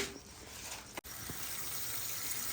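Tap water runs continuously over moong dal in a kitchen to wash it, a steady splashing gush that drops out for a split second partway through.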